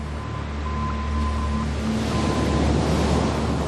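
Sea waves crashing on the black sand beach at Ajuy, Fuerteventura, a loud continuous roar of surf that builds and churns, with wind buffeting the microphone and no voices.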